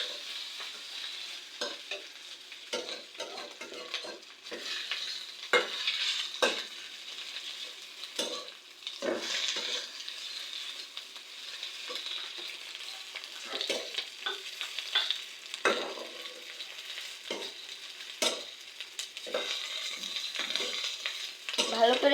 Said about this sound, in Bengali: এই পাস্তাগুলোকে ভেজে এবার আমি মশলা দিয়ে দিচ্ছি। ভালো করে মাখিয়ে নিতে হবে।